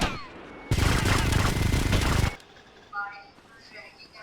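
In the video game GTA Vice City, a machine gun fires one loud, continuous burst of rapid gunfire lasting under two seconds, followed by quieter in-game ambience.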